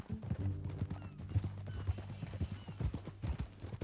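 Horse hooves clip-clopping in the video game Red Dead Redemption 2, a steady walking rhythm of hoof strikes on a dirt trail, moderately quiet, with faint background ambience and a low undertone.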